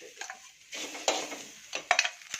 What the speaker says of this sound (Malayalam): തേങ്ങ വറക്കണം